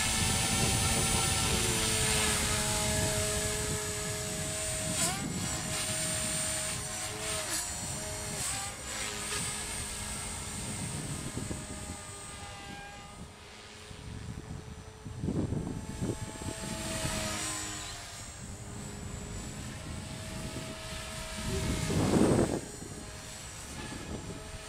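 A 450 GT RC helicopter flies in idle up mode, its steady high-pitched rotor and motor whine running continuously with a few louder swells as it maneuvers nearby outdoors.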